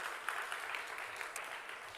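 A congregation at a Korean church's Sunday afternoon service gives a short burst of applause, fairly quiet and evenly spread across two seconds.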